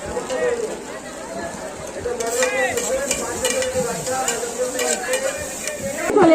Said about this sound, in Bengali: এখানে চাউমিন ভাজা হচ্ছে।